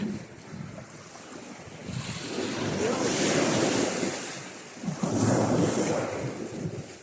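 Waves roll and break in a continuous wash of surf, swelling twice, with wind rumbling against the microphone.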